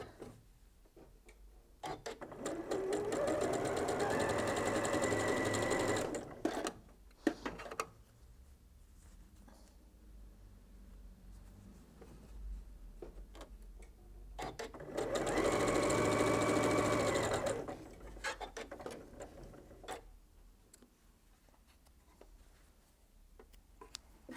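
A sewing machine stitches quilt pieces in rows for a hearts and nine-patch quilt, running in two steady whirring bursts of a few seconds each, separated by quieter handling clicks and rustles.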